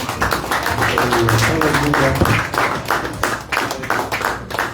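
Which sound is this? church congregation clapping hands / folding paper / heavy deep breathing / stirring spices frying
church congregation clapping hands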